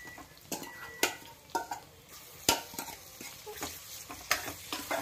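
Chicken curry stirred in a pan, repeated sharp spoon scrapes and knocks against metal over a continuous frying sizzle, close and unaccompanied by speech.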